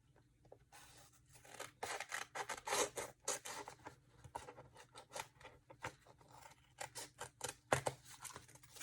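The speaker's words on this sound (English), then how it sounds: "I'm just going to cut off this excess as well" Scissors snip and slice through excess vinyl stencil material being trimmed off a wood sign, a run of short crisp cuts and rustling tears at close range with no talking.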